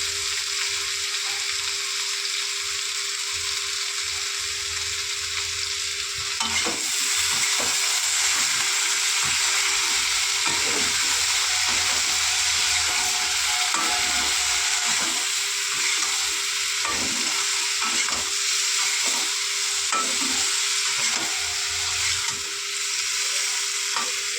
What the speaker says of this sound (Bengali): এটা একটু ভালো করে ভেজে নিয়ে